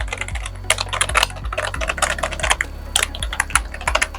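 Typing on an all-plastic Aula S99 membrane gaming keyboard, a brisk, close run of soft keystrokes with irregular rhythm and occasional firmer thumps, heard alone.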